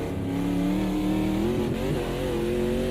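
Race car engine in Automobilista 2 on the Nürburgring Nordschleife, a loud, continuous close engine drone whose pitch sags and then climbs again, with a brief rough patch midway.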